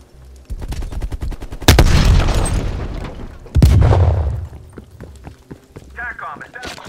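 Two heavy booming frag grenade blasts in a military video game about an attack helicopter, each followed by a rumbling decay, set among scattered gunfire clatter; a radio-style voice speaks at the end.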